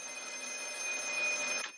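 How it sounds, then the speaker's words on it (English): An old disconnected telephone rings in a film scene, a steady bright electric bell tone sounding continuously and fairly loud before cutting off abruptly near the end, no talking. "How is it ringing, Alex?"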